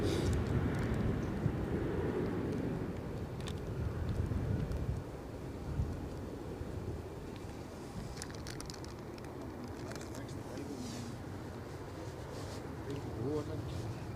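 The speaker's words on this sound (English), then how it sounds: "the wind is moving the tripod" Wind buffets a microphone at an airport, gusting unevenly with rumbling bursts strong enough to shake a camera tripod, louder at first and then easing to a steadier rush.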